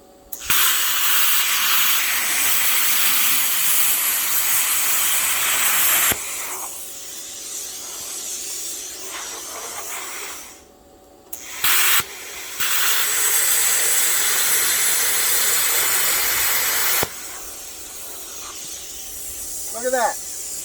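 A PrimeWeld Plasma 50D plasma cutter slices through metal with a loud, steady hiss that runs for long stretches, breaking off briefly between cuts. Nearby pauses are quiet.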